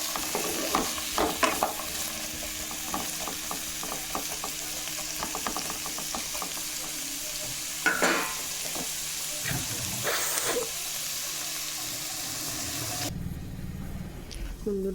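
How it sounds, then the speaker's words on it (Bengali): Vegetables sizzle and fry in a pan while a spoon stirs and scrapes in quick irregular strokes, with steady hissing throughout and a brief quieter stretch near the end. "সবজিটা একটু ভাজা ভাজা করে নেব।"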